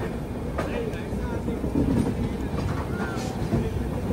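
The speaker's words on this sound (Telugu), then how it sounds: "స్టేషన్ నుంచి బయటకు వెళ్ళిపోయింది మన ట్రైన్" Hamsafar Express rolling on rails after pulling out of Nagpur, a steady low rumble of wheels with faint clatter throughout, heard from inside the coach with some background voices.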